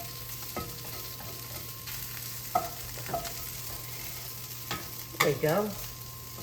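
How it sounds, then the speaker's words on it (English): Potatoes and onions sauté in a pan with a steady, quiet sizzle, broken by a few clinks and scrapes of stirring. A voice speaks briefly near the end. "just sauteing the potatoes and the onions"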